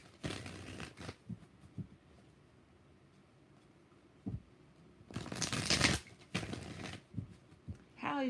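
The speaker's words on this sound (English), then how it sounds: "So 6 shuffles for Karma." Tarot cards being shuffled in several separate bursts of riffling and slapping, close and fairly quiet, with pauses between and a faint voice in the background.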